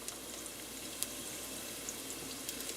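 Garlic sautéing in a pan, a steady soft sizzle with faint crackles and small pops throughout, fairly quiet and heard alone.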